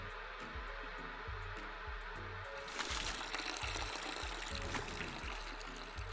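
Water dumped out of a brew container in the Brewmaster beer brewing simulator, a sudden steady pouring gush that starts partway through over a repeating low background tone.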